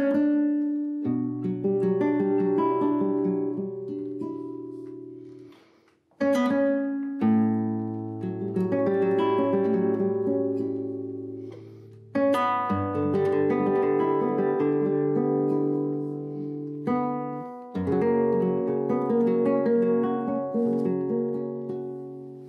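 Flamenco-style Spanish guitar introduction played solo, layered plucked chords and melodic runs ringing out in phrases with brief pauses between them, close and clear with no talking.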